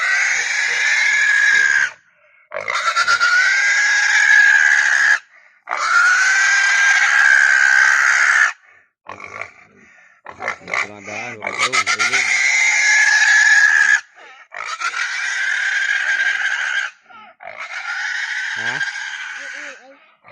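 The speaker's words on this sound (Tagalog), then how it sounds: "maingay daw yung baboy" Fattening pigs squeal loudly in long, harsh bursts, one after another with brief pauses, close by and piercing.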